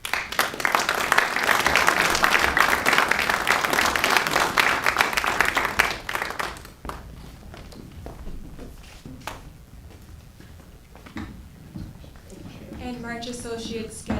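An awards ceremony audience applauds loudly for about six seconds before the clapping thins to scattered claps and footsteps, and then a voice begins speaking near the end.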